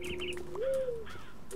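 Birds in the Minecraft Technic modpack give repeated cooing, chirping calls, including one longer rising and falling tone in the middle, close and fairly loud with no talk.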